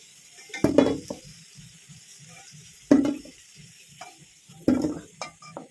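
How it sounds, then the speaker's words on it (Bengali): Fried potatoes lifted out of a pan of hot oil onto a plate, with three loud clattering scrapes of a utensil against metal spaced a couple of seconds apart over a faint background sizzle. "তো গাইস দেখো আলুগুলো ভাজা হয়ে গেছে, এবার বর এখন থালায় উঠে উঠিয়ে নিচ্ছে সবগুলোকে।"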